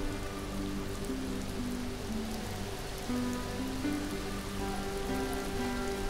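Heavy downpour in the video game Mr. Prepper, a dense, steady rain hiss and patter on surfaces under a soft, low musical drone, continuous and fairly loud with no talking.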